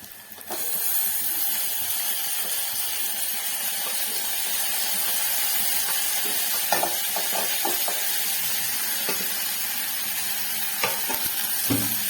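Tomatoes hitting hot oil in a pan, a loud steady sizzle with occasional stirring scrapes and pops, no talk over it.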